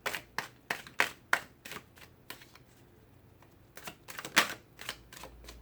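Tarot cards being shuffled by hand, a series of sharp riffling bursts in quick clusters, a pause, then more flicks near the close; close and fairly faint, with no talk.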